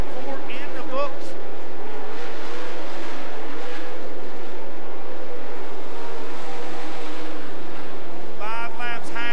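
Race cars at Natural Bridge Speedway roar around the oval under a loud announcer calling the race, with engine drone steady beneath the commentary and a brief whine near the end.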